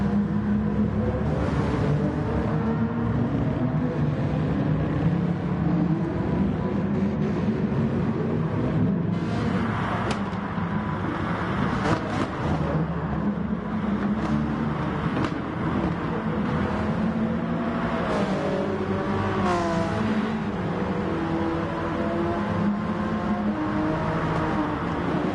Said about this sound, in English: This was a GT4 race in the Acura NSX.